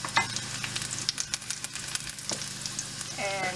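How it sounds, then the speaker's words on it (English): Garlic sizzles in a hot pan for pork fried rice, a loud continuous crackle broken by the scrape and clatter of stirring, with a brief voice near the end. "Add some garlic in just few seconds."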